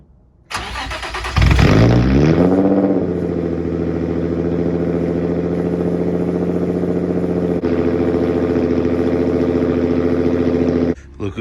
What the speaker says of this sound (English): I'm gonna just do a cold start right now so you guys get what it sounds like.